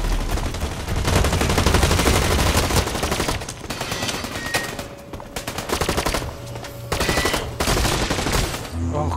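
Gunfire in the first-person shooter Blacklight Retribution rattles out in rapid automatic bursts, loud and close, nearly continuous with a few short breaks between volleys.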